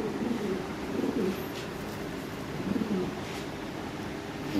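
A Lahori fancy pigeon coos in low, soft, repeated phrases, close by and fairly faint, with no talking.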